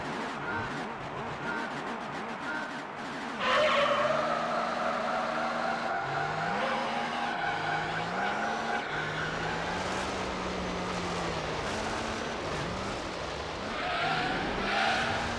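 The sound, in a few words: rally car racing and skidding in video game Gran Turismo 3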